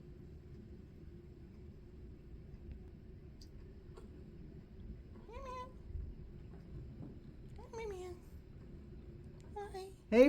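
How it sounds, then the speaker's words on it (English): A kitten meows indoors, three or four short rising cries spaced a couple of seconds apart over a low background hum, ending in a louder close cry. "That was the little kitty, of course."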